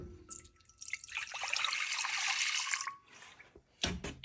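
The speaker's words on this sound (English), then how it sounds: "And I'm gonna pour some vinegar in there." Vinegar is poured into a burned stainless steel pot for cleaning: a steady liquid splash runs for about two seconds, then stops, followed by a brief clatter near the end.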